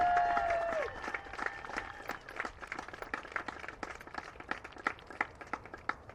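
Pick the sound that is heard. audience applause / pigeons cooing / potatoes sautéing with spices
audience applause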